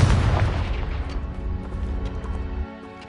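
A Confringo spell explosion in Hogwarts Legacy bursts with a heavy boom at the start, then a rumbling decay with ringing tones that cuts off near the end.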